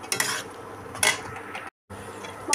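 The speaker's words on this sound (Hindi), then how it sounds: "मसाला फ्राई हो रहा है फ्रेंड" Masala sizzles in a pan for a chicken dish while a utensil scrapes and clinks against the metal in a few bursts, with a brief dead gap before the frying resumes, no voices.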